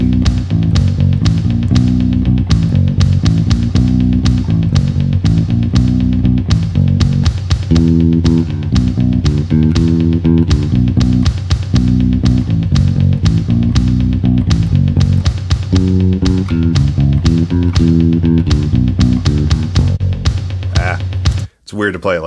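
Bass guitar plays a steady 12-bar blues pattern in B with a busy, driving rhythm of repeated plucked notes, loud and close throughout, ending with a brief stop.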